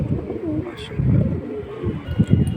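Pigeons coo low and throaty at a busy pigeon market, several overlapping rolling calls close by with a brief chirp over a murmuring background.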